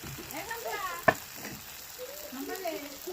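Egg curry masala with turmeric and chili powder being fried and stirred in a pan, a soft continuous sizzle with one sharp utensil clink, fairly faint, with a little speech.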